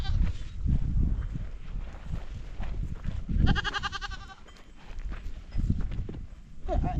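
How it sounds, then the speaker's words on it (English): Mountain goats approach on a hiking trail, giving a short burst of harmonic bleating midway, mixed with hoof or footstep noise and rustling outdoors. "Even mountain goats are coming towards me."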